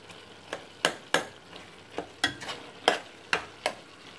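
Chicken keema frying in a pan, a soft sizzle broken by about a dozen sharp scraping strokes of a spoon stirring the mince at an uneven rhythm.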